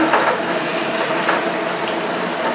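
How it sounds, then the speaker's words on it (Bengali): Mango pieces being stirred with spices in a hot pan, a steady close hiss of sizzling with faint scraping strokes, continuous and fairly loud, no talk. "আমগুলোর সঙ্গে মশলার সঙ্গে এইভাবে নেড়ে নিচ্ছি"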